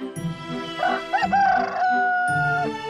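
A voice imitates a cartoon rooster crowing: one long rising-then-held cock-a-doodle-doo call, close and loud, with strong tonal harmonics and no other talk.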